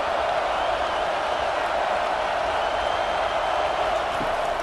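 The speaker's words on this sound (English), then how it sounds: "This crowd knows when to bring it" Stadium crowd in the College Football 25 video game, a steady wash of cheering and roar that holds at an even level throughout, with faint commentary underneath.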